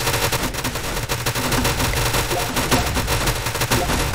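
A minigun in Tower Defense Simulator fires in a relentless, loud stream of rapid shots, forming a continuous roaring rattle with no pauses.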